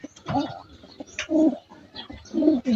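A tippler pigeon coos close by, with repeated low throaty calls in short bursts and some speech-like sounds between them.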